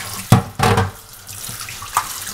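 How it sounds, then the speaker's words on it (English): Pork is rinsed under cold running water from a kitchen sink tap, with two loud splashing bursts followed by a softer, steady flow and a brief splash near the end. "we're just gonna wash this with some cold water"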